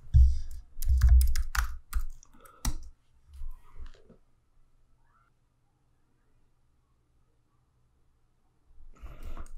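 A file name is typed on a computer keyboard in a quick cluster of close, crisp key clicks, then a pause into near silence before a few more taps at the end.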